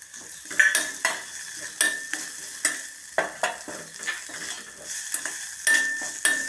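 Ground masala spices — fennel, cumin and pepper — stirred with a spoon in a frying pan for samosa filling, with repeated scraping strokes over a steady sizzle, close and clear, no voices.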